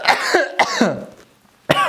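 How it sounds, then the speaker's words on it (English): Several close, harsh coughs in quick bursts from someone who has just breathed in freeze-dried dill pickle powder seasoning with sriracha, then a short quiet gap before a final loud cough. "And this stuff will make you cough"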